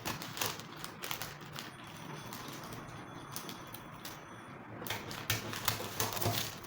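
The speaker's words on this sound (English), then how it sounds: "So I'm going to cut it like this now." Scissors cut through fabric for an off-shoulder bustier, a close run of crisp, irregular snipping clicks over a soft room hiss, with no one speaking.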